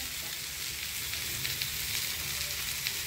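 Chicken pieces fry in a hot pan for restaurant-style butter chicken, a steady close sizzle with faint crackles and occasional stirring, no voices.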